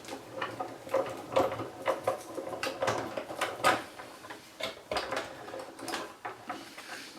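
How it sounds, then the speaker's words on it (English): A hand-cranked die cutting machine winds plates through with a faint, continuous run of soft clicks, rattles and creaks, close by and fairly even in rhythm. "feed it into the machine and wind it through"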